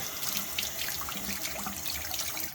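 Water runs steadily from a faucet, rinsing gunk from the water line out of a faucet part, with a constant close rushing hiss and no talk.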